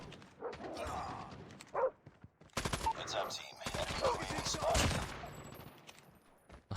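Dog barking in the Call of Duty Mobile video game, short yips and bow-wows mixed into bursts of rapid gunfire and machine-gun fusillades, with game voices talking in between.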